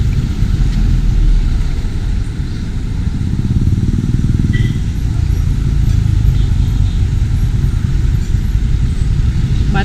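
Busy street traffic in Cebu rumbles past beside a raised pedestrian walkway, with motorcycles and cars producing a loud, continuous engine drone close by and no clear gaps between vehicles.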